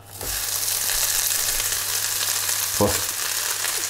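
Chard leaves frying in olive oil in a pan for a trouchia, a steady, dense sizzle that carries on evenly throughout, with a couple of faint knocks of the leaves being moved around.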